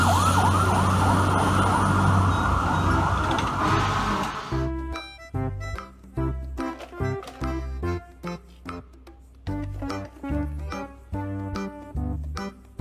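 A fire truck siren wails for about four seconds, then gives way to loud rhythmic music with heavy drum hits.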